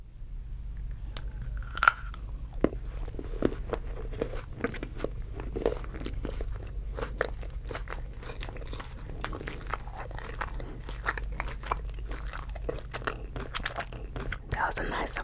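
Crunchy Oreo cookies and cake are bitten and chewed close to the microphone in a quiet setting, with many small crisp crunches and soft mouth sounds spread irregularly over a low background hum.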